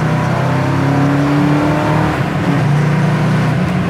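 A 1966 Ford Fairlane GT 390 V8 pulls hard through the gears, its loud, close engine note climbing steadily in pitch with a brief shift dip around the middle, a sustained rising roar.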